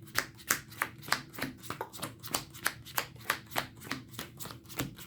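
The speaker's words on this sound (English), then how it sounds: "Just get this all good up and shuffled" Playing cards riffled and shuffled by hand during a Pokémon-style card game deck test, a fast run of crisp, regular flutters and snaps repeating about twice a second, close and steady with no talking.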